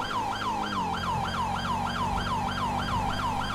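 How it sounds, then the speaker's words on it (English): A loud emergency siren from the police game LSPDFR wails in a steady, rapid rising-and-falling cycle, close and continuous, over a low engine drone with no talking. "killing the siren"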